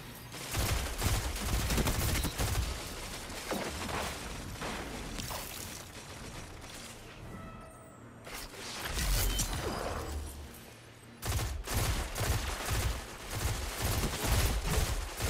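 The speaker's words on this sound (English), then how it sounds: "I'm just shooting through my barricade at him." Rapid gunfire in a Destiny 2 match, fired through a barricade, dense loud bursts of shots filling the clip, broken by a short lull before heavy firing resumes.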